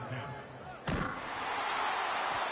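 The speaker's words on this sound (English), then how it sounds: "Bangs off the left upright and deflects away." Field goal attempt by kicker Cade York from 48 yards on the right hash, the ball clanging sharply off the left upright in a single loud bang amid steady crowd noise and commentary.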